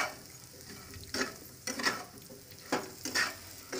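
Purple yam (pendalam) fry is stirred in a pan, with a faint background sizzle and about four distinct scraping stirs of a spoon across the pan.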